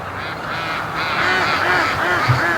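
A flock of free-range ducks rushing toward a lake quack and honk in a steady run of repeated calls, loud and close, layered over outdoor background noise without talk.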